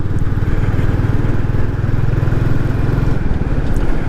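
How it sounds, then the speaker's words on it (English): A Royal Enfield Classic 350 motorcycle on the move, its steady, droning engine note running loud and close throughout with an even low throb and no voices. "So I'm just going to ride for a bit now and stay silent"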